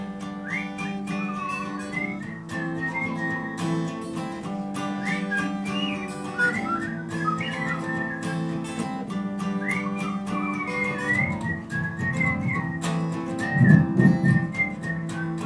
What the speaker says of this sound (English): I'm gonna try to whistle that.